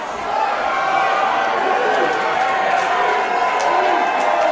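A wrestling crowd at the United Irish Cultural Center roars in a loud, sustained wall of cheering as a wrestler climbs onto the bar, with an announcer talking over the noise.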